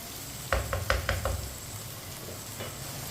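Spoon stirring a rice mixture in a pot for namkeen chawal, heard as a few quick scraping knocks in a cluster and then one more, faint, over a low steady hiss.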